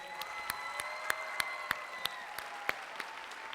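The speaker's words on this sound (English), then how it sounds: "Can we get a round of applause for our ag teachers real quick?" Audience applauding during a retiring address, a soft spread of scattered claps with a few sharp individual hits standing out over a sustained tonal hum, fairly quiet overall.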